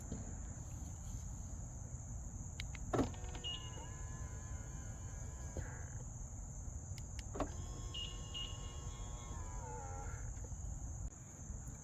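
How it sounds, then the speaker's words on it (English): Power side mirrors on a 2023 BMW X1 whir as their motors fold them in and then back out, two separate motor runs of a few seconds each over a steady background hum, with no talking. "hit the lock button, the mirrors fold in, hit the unlock button, the mirrors fold out"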